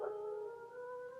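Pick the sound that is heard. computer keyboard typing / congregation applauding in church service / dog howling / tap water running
dog howling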